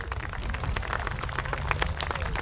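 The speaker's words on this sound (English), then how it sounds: "Let's give her a big round of applause" An audience at a kindergarten and sixth-grade school promotional ceremony applauds with a steady, dense patter of many hands, fairly faint and distant, sustained without a break.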